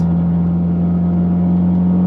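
Car engine and aftermarket exhaust held at about 3,000 RPM after clutch work, a steady, loud, raspy drone with a strong constant hum and no talking.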